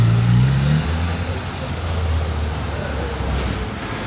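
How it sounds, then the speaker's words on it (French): A Porsche 911 GT3 RS drives past on a street in Monaco, its engine a steady, fairly loud rumble that swells briefly at the start and then holds as it passes nearby amid general street noise. "Un autre Suisse à présent en GT3 RS."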